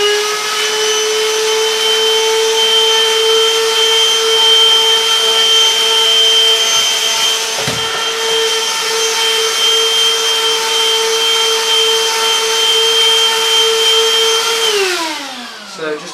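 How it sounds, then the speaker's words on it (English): A handheld vacuum cleaner runs close by as it cleans the filter of a Neato Signature XV or Pro robot vacuum, giving a steady, loud motor whine for about fifteen seconds before spinning down at the end. "using a handheld hoover is just get rid of the stuff that's attached to the filter"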